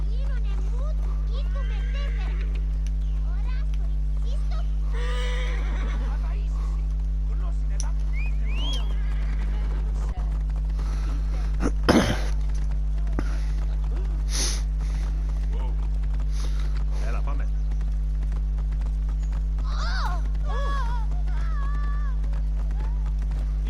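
A horse being called in the video game Assassin's Creed Origins: a brief whinny and snort with hoofbeats, sitting under a steady low game hum, music and a voice talking.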